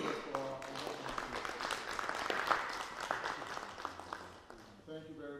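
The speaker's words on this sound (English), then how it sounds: "A round of applause for our audience." An audience at a church diocese gathering in London claps in a faint, scattered round of applause, with a voice speaking over the clapping throughout.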